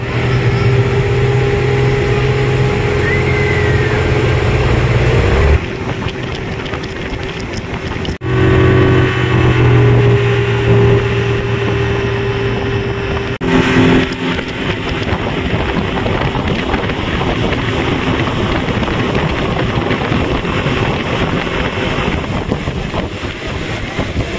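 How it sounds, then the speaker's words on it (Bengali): Speedboat ride on Maithon reservoir, with a steady loud engine drone and rushing water and wind noise throughout, the motor pitch shifting a few times during the run. "তো এবারে ঠিক করলাম স্পিড বোটে চাপবো।"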